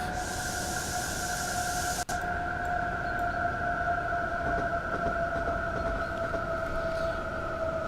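A train locomotive in the video game Train Simulator 2020, on the Wherry Lines from Norwich to Great Yarmouth, rumbles steadily with a sustained two-tone horn-like drone, loud and close, plus a brief click near the start; no voices.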